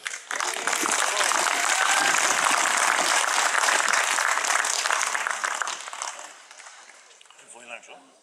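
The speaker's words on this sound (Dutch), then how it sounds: "Dankjewel voor het applaus." A festival audience applauding, loud dense clapping that fades out after several seconds, followed by a voice speaking.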